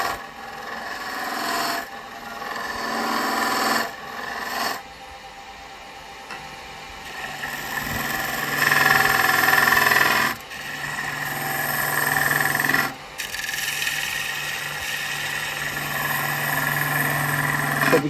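A wood lathe turns a log while a cutting tool scrapes against the spinning wood, making a steady rasping whir with brief pauses and changes in pitch, close by and without speech.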